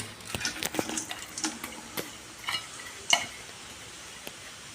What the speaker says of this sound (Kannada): ಎಣ್ಣೆ ಹಾಕಿದ ನಂತರ ಲೋ ಫ್ಲೇಮಲ್ಲಿ ಒಂದು ಕಪ್ಪಷ್ಟು ಈರುಳ್ಳಿ